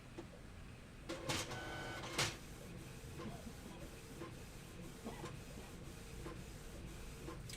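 Home printer printing a colour picture, a quiet mechanical whir with several sharp clicking and sliding bursts early on, followed by steady low motor noise and faint rhythmic ticks.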